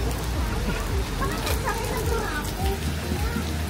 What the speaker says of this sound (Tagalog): It's raining. It's raining in Saigon.